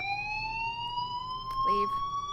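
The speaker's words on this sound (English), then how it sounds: "Hey, do you hear that fire alarm?" A fire alarm in Life is Strange sounds as a steady, slowly rising electronic tone held throughout, with a brief voice-like sound breaking in near the end.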